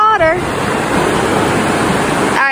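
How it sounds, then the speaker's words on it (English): Water rushes steadily through a stream in the woods, a loud broadband roar close by, with a brief bird-like chirp at the start and again at the end. "Look. Water."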